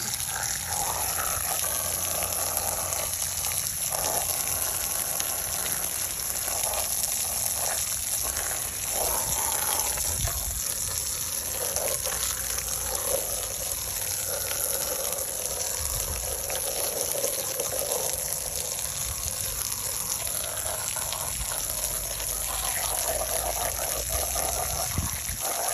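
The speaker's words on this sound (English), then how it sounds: "I just take my water hose, I'll spray off my mats" A garden water hose spraying off rubber mats, a steady close hiss of rushing water running throughout with slight shifts as the spray moves, no voices.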